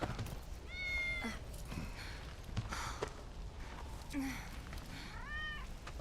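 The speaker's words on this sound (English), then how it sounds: "Tifa's carrying the cat. Good kitty." A cat in the video game Final Fantasy VII Remake meows a few times, short rising cries spread across a noisy, rumbling game background with faint shuffling.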